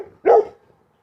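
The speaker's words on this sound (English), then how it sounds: "Get past this dog. It's the same friggin' dog every day." A single sharp, loud dog bark rings out close by along a walking route, standing alone without talk.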